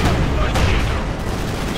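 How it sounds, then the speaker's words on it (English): A tank shell glances off the rear armour of a Stuart light tank in Company of Heroes 2, a dense, loud burst of battle noise with booming impacts and overlapping gunfire that fills the moment without pause. "Shot bounced off the rear."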